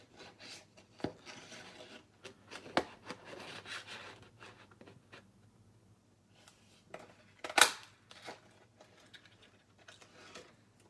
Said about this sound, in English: let's punch one of them out.